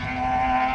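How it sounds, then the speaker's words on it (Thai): A speedboat engine on a river, a steady drone with a constant low hum, loud and close, running continuously without breaks. "ก็ไปฟังเสียงเรือกันก่อน"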